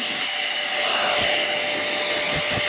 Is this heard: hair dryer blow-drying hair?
yes